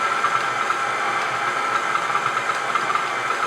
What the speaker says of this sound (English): Just mix it here, medium-low speed for just about 30 seconds, just to get that butter moving around.